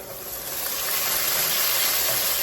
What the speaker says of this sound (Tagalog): Okay, magigisa na tayo. Ginger.